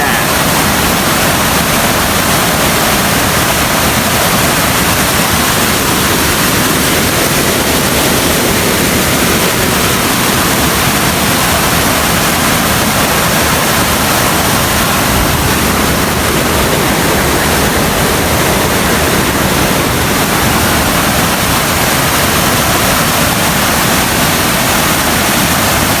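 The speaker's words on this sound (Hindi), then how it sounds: "जनाब कितने स्पीड नाल पानी नाला जा रहा" Rainwater rushing fast through a roadside drain during stormy rain, a steady, loud, dense roar of churning water that continues without a break from start to finish.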